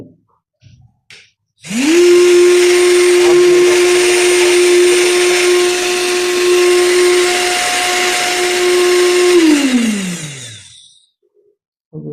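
A DC 775 motor running at 15 volts spins up abruptly into a loud, steady high-pitched whine for about eight seconds, then winds down smoothly to silence, with a few small clicks before and after.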